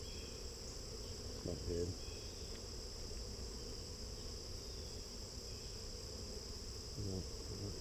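Honeybees hum in a steady, continuous drone at an open hive during an inspection, with a few short spoken words briefly rising over the buzzing.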